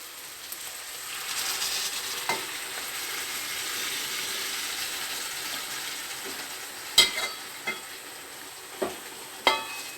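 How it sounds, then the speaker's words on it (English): Tomato tamarind paste goes into a pan of bottle gourd sambhar, giving a soft steady sizzle and hiss with a few sharp clinks and scrapes of stirring near the end. "then add the paste we made in the mixer grinder, the tomato tamarind paste."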